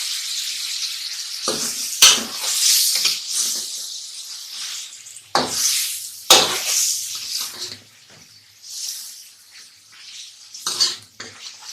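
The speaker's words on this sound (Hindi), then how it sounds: "और इसको अच्छे तरीके से भूनेंगे। ये भी बस हमारा मसाला बिल्कुल फ्राई हो चुका है।" Masala for aloo palak sizzles and crackles in a pan while being stir-fried, with repeated loud scraping strokes of a spoon stirring in an irregular rhythm, close by.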